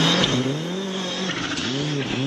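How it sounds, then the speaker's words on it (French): A rally car on the Jänner Rallye 2015 course runs crabwise with a punctured, crushed front wheel, its loud engine revving and dropping in close, repeated swells with squealing tire noise. "Donc on a la voiture qui roule un peu en crabe."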